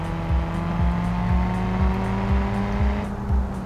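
In BeamNG.drive, a car engine drones steadily while a rhythmic thumping from a bent wheel knocks roughly twice per second, with no voices.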